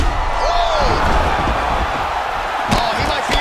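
In the video game EA Sports UFC 4 on PS5, a roaring crowd reacts to punches in loud bursts over a steady arena din, with a couple of sharp impact thuds near the end.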